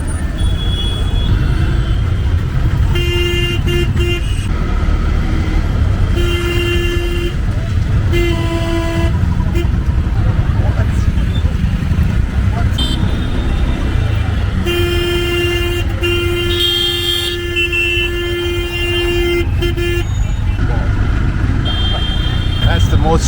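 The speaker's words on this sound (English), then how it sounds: "That's the most stressful traffic situation I've ever been in" Chaotic tuk tuk traffic in Jodhpur, India, with repeated honking horns, some short and some held, cutting over a steady rumble of engines, while people talk now and then.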